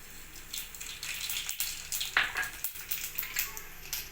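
Cumin and mustard seeds crackle and sizzle in a spoonful of hot oil, a close, busy spitting with scattered pops and brief bursts over about four seconds.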